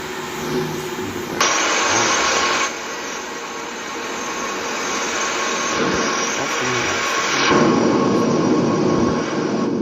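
Lufthansa Airbus A319 jet engines in the Aerofly flight simulator game give a steady, loud roar and whine, with abrupt shifts in tone and level as sound cuts in and changes, sustained throughout with no voice.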